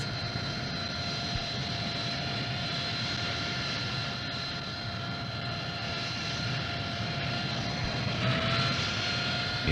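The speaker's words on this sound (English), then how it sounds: "The aircraft accelerates forward and reaches normal wing-borne flight speed." Harrier jump jet engine accelerating forward into wing-borne flight, a steady loud turbine roar with a high whine, holding level and swelling slightly toward the end.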